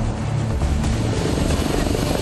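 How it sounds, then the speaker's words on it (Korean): A rescue helicopter arrives overhead at a mountain rescue site on Bukhansan, giving a loud, steady rotor roar and wind wash that fills the moment without pause. "헬기 바람 붑니다."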